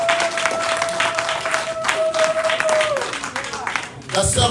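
An Easter church congregation applauding Jesus, dense clapping and cheering under a loud amplified voice speaking over it, with a sustained tone fading midway.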